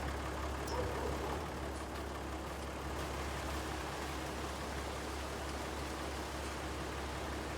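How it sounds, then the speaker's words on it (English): Steady broadband rain hiss fills a farming video game scene, constant and moderately loud, layered over a low vehicle engine drone, with no clear voices over it. "Oh, here comes the rain."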